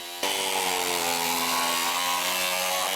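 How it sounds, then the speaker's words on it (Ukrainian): An angle grinder cuts loudly and steadily for about three seconds, a harsh whining drone with strong tonal ringing that starts abruptly and then holds without a break. "Мовознавчі дискусії перериває болгарка"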